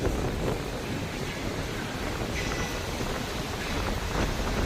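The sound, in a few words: wind blowing at the beach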